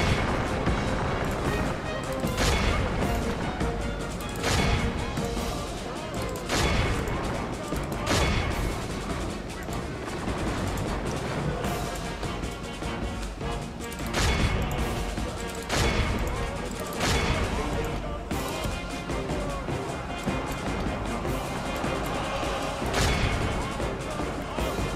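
Camel gunners in a Medieval 2 Total War battle fire steady volleys, with repeated sharp gunshot cracks recurring every few seconds over a dense, noisy battlefield din.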